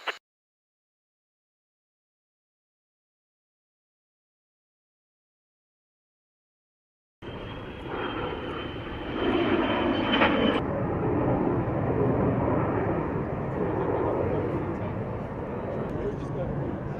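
An F-35 stealth fighter jet engine cuts in abruptly after several seconds of silence, a loud, broad, sustained roar that stays steady and close to the end.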